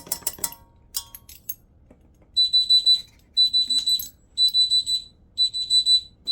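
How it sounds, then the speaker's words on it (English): A kitchen timer alarm goes off while a cake bakes, sounding as repeated bursts of high, shrill electronic beeps in a steady rhythm, close and loud, after a few clinks of dishes at the start. "I'm glad my timer went off."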